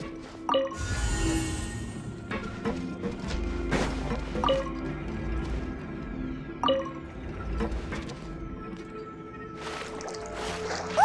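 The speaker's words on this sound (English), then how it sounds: "Ooh, the water level's gone way up." Rising water in a Genshin Impact quest: sloshing and dripping liquid over a low rumbling bed, punctuated by several sharp clanking knocks spaced a couple of seconds apart.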